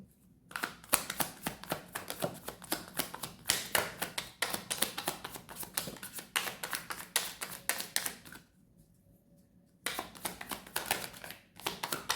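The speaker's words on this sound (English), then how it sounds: "So I'm going to pull cards for a minute" Tarot cards being shuffled, a fast run of crisp, dense riffling snaps with a brief pause near the end before the shuffling picks up again; close and fairly loud, with no talking.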